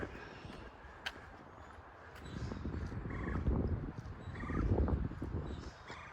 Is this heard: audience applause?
no